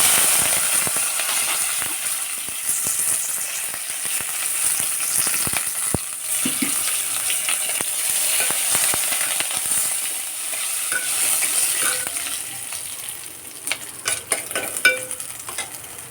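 Cumin, mustard seeds, turmeric and curry leaves temper in hot oil, a fairly loud steady crackle and hiss, with spattering pops and small utensil clinks growing busier toward the end.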